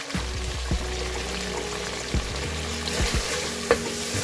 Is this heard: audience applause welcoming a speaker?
no